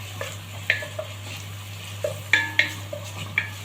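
Onions and garlic frying in a pan for Egyptian home cooking, with soft sizzling beneath several sharp scrapes and clinks of a spoon stirring against the pan at an irregular pace, close and fairly quiet.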